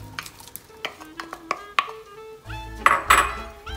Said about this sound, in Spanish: Vamos a sofreír la cebolla y el pimiento con el mismo juguito de la carne del salón